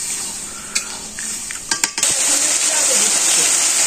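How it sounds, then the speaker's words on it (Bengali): Chicken meat stirred and frying in a pot for a village-style curry, with a steady bright sizzle and a few scraping clinks of the utensil against the pot, growing louder partway through. "মাংসটা ভালোভাবে কষিয়ে নিই"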